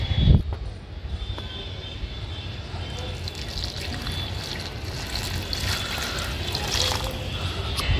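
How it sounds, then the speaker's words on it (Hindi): Water pours steadily onto plants in a soft continuous trickle, with faint outdoor background noise. "पानी डालता हूँ पौधों में"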